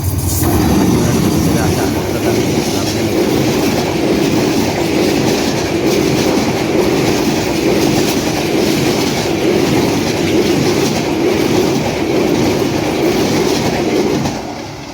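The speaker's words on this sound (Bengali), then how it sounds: "এই মুহূর্তে মুলাডুলি রেল স্টেশনের 2 নম্বর লাইন দিয়ে থ্রু পাস করে চলে যাচ্ছে।" Dhaka-bound 752 down Lalmoni Express, a meter-gauge train from Lalmonirhat, runs through Muladuli railway station on line 2 without stopping: a loud, continuous close-up roar and wheel clatter that holds steady throughout and eases slightly at the very end.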